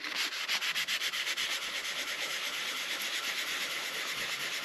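Gentle, rhythmic rubbing strokes on an enamelled marine boat dashboard to build a patina, a close, continuous scratchy hiss with regular pulses, steady and alone.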